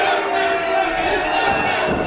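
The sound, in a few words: crowd chanting at a pro wrestling event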